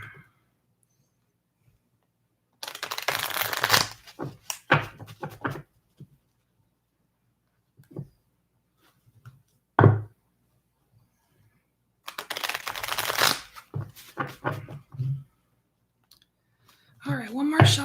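Tarot cards being shuffled by hand in two bursts of riffling, close and fairly loud, separated by quiet pauses and brief talk.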